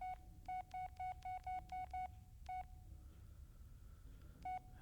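Phone keypad tones dialing into voicemail in the Blair Witch video game, a quick run of seven evenly spaced beeps, then one more after a pause and a final one after a longer gap, over a low rumbling background.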